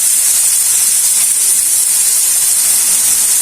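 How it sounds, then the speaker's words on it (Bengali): Bitter gourd frying in a pan, seasoned with salt, giving a steady loud hiss and sizzle that holds unbroken throughout with no talk over it. "এখন এটা ভাজি করবো, ভাজি করে গরম ভাত দিয়ে খাবো।"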